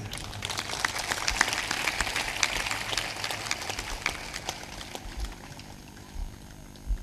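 An audience at a spiritual discourse in Amarpur, Punjab clapping together: dense, continuous hand claps that hold steady and then thin out toward the end.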